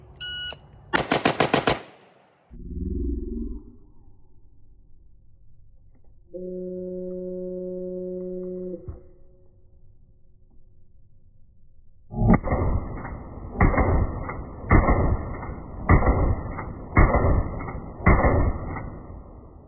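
An AK rifle fitted with an AK-74 muzzle brake fires a fast string of about seven sharp shots, coming after a steady electronic timer beep and a few clicks.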